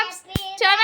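A child claps hands once at a birthday celebration, a single sharp close clap set between sung or spoken voices.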